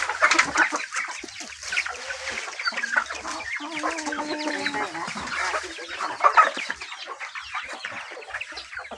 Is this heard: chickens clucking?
yes